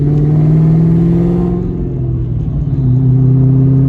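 Ford Mustang Cobra under hard acceleration, a loud, deep engine drone rising steadily in pitch through the gear, then briefly dipping and climbing again.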